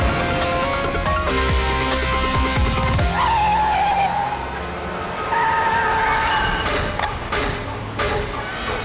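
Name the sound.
car driving recklessly, tires skidding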